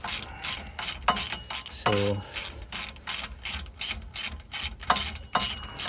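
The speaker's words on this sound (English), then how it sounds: "Should get an extension just so I could ratchet this out real easy, or real fast" A hand ratchet backs out a bolt on a Honda Fit during a rear alignment shim job, with rapid, close, repeated clicking strokes and a brief pause partway through. A single short word is spoken.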